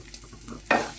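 Grated coconut and spices fry in a pan for obbattu sambar, a faint sizzle that jumps into a sudden close stir and louder frying burst near the end.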